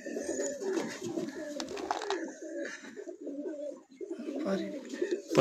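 Pigeons coo repeatedly on a rooftop, soft rolling calls overlapping in an irregular rhythm, fairly close and moderately quiet, with some faint background noise.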